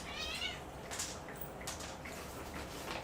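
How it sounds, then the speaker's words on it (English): A faint, brief meow from pet cats fighting indoors opens the moment, then fades into low room noise with a few soft clicks. "Man, they're like fighting so much today."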